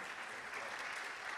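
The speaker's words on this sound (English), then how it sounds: "Please applaud René." Brief, faint applause from an audience at the International Astronautical Congress in Baku, a soft even wash of clapping heard from a distance.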